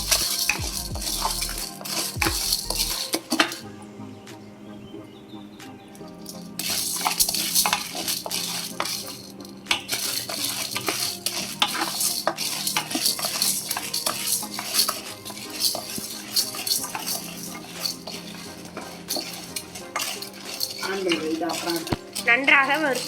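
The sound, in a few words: dry-roasting chana dal in a pan on low flame, stirring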